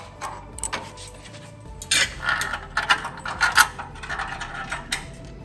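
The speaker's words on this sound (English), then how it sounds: "you're going to insert the bolts" Metal bolts being slid and fitted through mounting holes to secure a MEGA robot onto a sled, heard as a series of close, irregular metallic clicks, taps and scrapes with small rattles, no talking.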